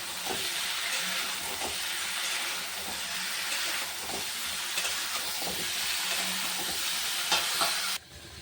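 Vegetables and spices fry in hot oil in a home kitchen, giving a steady close sizzle and hiss with occasional stirring scrapes, then cutting off near the end, with no speech.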